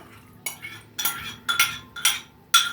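A utensil stirs potato broth into lean potato dough in a bowl, giving five close, evenly spaced strokes, each with a sharp clink and a brief scrape against the bowl, with no talking.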